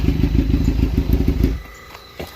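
A $400 Suzuki GSX-R 600 motorcycle idles up close with a deep, pulsing rumble for about a second and a half, then cuts out, leaving faint background noise and a brief thump.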